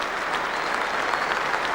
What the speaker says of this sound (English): he walks off to a standing ovation here at Lord's Cricket Ground